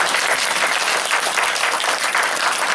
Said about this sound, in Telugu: ఇప్పుడు రెండు చేతులు కలిపి గట్టిగా చప్పట్లు కొట్టండి